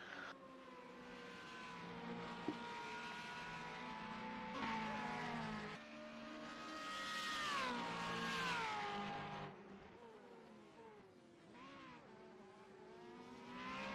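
Nineties Formula 3000 race cars run hard at Kyalami in South Africa, with loud high engines rising and falling through gear changes as several cars pass close together, and no talk.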